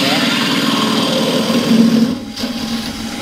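Wood lathe turning a wooden scoop with a skew chisel truing up the end: a steady, loud motor hum and whir with gritty cutting noise, easing off briefly near the end.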